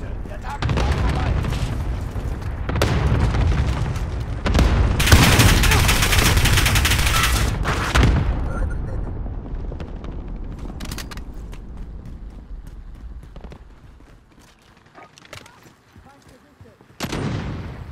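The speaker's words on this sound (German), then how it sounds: "Feindlicher Clusterschlag im Anflug." Call of Duty Modern Warfare cluster strike, with loud rolling explosions and bursts of rapid gunfire fading into scattered distant shots, then a final blast.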